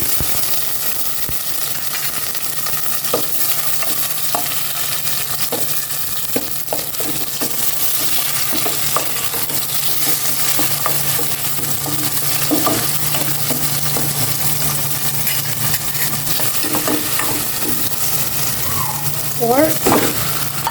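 Onions fry and get stirred in a pan, with a steady sizzle broken by scattered scraping and clinks from the stirring. It is close, moderately loud and runs continuously with no talk.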